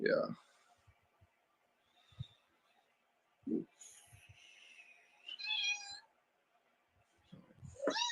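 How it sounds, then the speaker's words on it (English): A pet cat named Kalisa meows several times indoors, with short separate cries spaced across a quiet room, and a person says a brief word between them. "that's my cat, Kalisa, that you're hearing right here"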